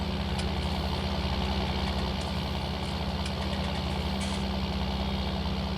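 A tractor pulling a Claas round baler in Farming Simulator 19 rumbles at a steady idle-like drone, with a low engine hum running continuously and faint mechanical clicks from the baler over a hilly meadow during first-cut silage.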